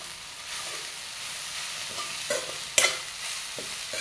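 Okra being stirred in a pan for a Malvani-style vegetable dish just after grated coconut is added, with soft scraping and light sizzling plus a few sharper spoon clinks, close and alone without talk.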